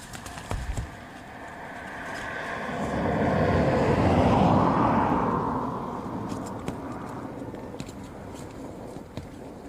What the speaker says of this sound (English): An Embraer E190 standard.